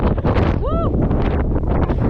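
Strong wind buffets the microphone in a very windy spot in Iceland, a dense, continuous roar running the whole time, with a brief voice exclamation partway through.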